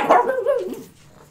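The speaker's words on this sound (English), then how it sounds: "Is my puppy bugging you guys?" A puppy gives one short, high bark that slides into a falling whimper and then trails off, close to the microphone and heard alone, indoors.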